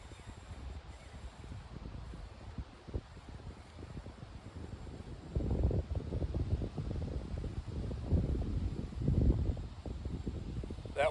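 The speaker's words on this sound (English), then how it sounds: "That wind out on the lake, it was just really windy" Steady wind blowing across an open lake on a gusty day, a broad continuous rush with louder gusts swelling in the second half, no voices.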